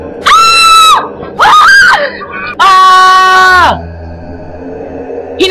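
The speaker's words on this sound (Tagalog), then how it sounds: "sunod-sunod na mga sigaw na kanyang mga kaibigan" Friends scream in a Filipino radio drama set in the woods: three long, loud, piercing screams in succession with short gaps between them, followed by quiet.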